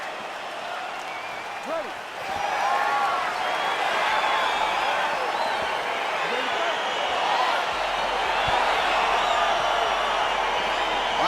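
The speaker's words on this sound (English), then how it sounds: "Crowd getting excited as this fight gets underway" Arena crowd in EA Sports UFC 4 cheers and roars steadily as a Khamzat Chimaev versus Alex Pereira bout begins, a dense continuous wall of noise with whoops, swelling after a brief word from an official.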